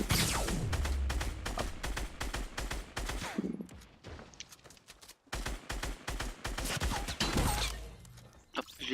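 Rapid Fortnite gunshots crack out in dense volleys, loud and close, with a short lull in the middle before more shots and impacts follow.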